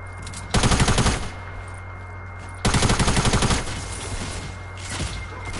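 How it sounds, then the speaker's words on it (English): Gunfire from a PS4 video game: two loud bursts of rapid automatic shots, each lasting about a second and separated by a short pause, with a fainter trailing burst near the end. "They're shooting the hell out of me"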